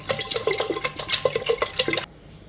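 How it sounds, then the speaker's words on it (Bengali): Water pours into a pot of lentils for a tangy raw-mango dal, splashing and gurgling in an uneven close stream with small drips, then cuts off abruptly near the end. "এবার আমি একটু ডালে জল দিয়ে দিচ্ছি কাটা দেব বলে"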